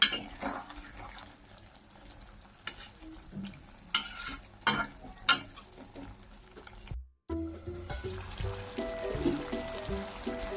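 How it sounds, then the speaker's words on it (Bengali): Tangra fish simmering in a mustard-poppy seed gravy with green chillies and coriander leaves is stirred in a pan, giving soft bubbling sizzle with intermittent spoon scrapes and a brief break midway. "এখন নাড়িয়ে নিচ্ছি একটু"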